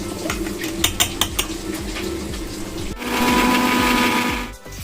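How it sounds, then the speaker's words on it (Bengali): An electric mixer grinder whirs in a home kitchen while grinding a paste, first with a few sharp clacks over a choppy drone, then a louder, steadier roar before a brief drop near the end. "এই যে দেখো এটাকে এখন আমি পেস্ট করবো মিক্সিতে দিয়ে"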